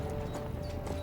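Horses clop along at a steady pace in Kingdom Come: Deliverance II, with a whinny and soft ambient game noise around the hoofbeats.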